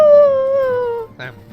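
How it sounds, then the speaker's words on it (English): A long wolf howl from the online game LOTRO, a loud wavering tone sliding slowly downward before breaking off into a short yelping tail. "I love that wolf howl sound."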